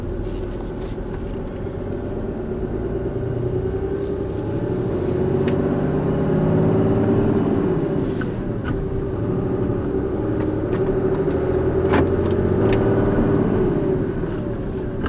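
A 2018 Cummins 6.7 diesel pickup truck with a louder than normal exhaust drives along, giving a steady low rumbling drone that swells slightly midway, heard from inside the cab with no talking.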